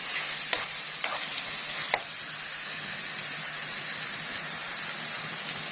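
Garlic and tomato paste frying in a pan, a steady close sizzle with a few sharp spoon clicks against the pan in the first two seconds as it is stirred.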